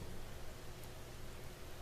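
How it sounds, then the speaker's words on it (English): Steady rain falls in a soft, even hiss that holds constant throughout, with no voices over it. "Breathe, listening to the sound of the rain"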